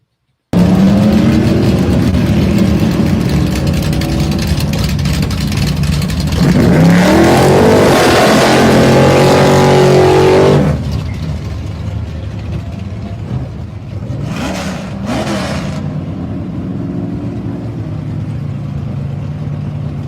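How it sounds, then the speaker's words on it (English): A 1973 Chevy Vega engine revs hard and loud, climbing in pitch, then drops back to a steady rumbling idle with two brief sharp blips of throttle. "it's gonna be loud. Can you hear it? This is a 1973 Chevy Vega."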